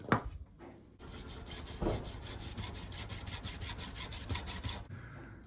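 A metal sheet is cut by hand for a water pump blower, giving a close rhythmic rasping and scraping with repeated strokes, a sharp knock at the start and short pauses between bursts.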